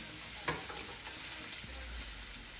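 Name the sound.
meat browning in oil in a pan for Sunday gravy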